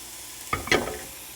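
Pork coated in a spice rub sears in a hot skillet on the stove, a brief burst of crackling sizzle with a quick stir, close and alone.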